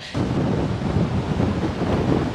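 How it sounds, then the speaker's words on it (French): Strong wind on Fuerteventura buffeting the microphone, a loud continuous rushing roar that gusts and swells throughout, with no voices. "Oh la vache, le vent!"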